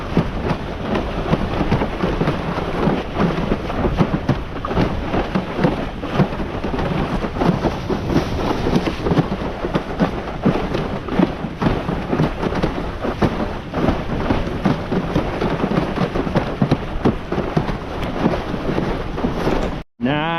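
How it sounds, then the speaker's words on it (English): Rain falls steadily during a hydrofoil board session on open water, a constant dense wash of noise with wind buffeting the microphone. It stays loud and close throughout, then cuts off abruptly at the end. "The rain here seems to stop the wind."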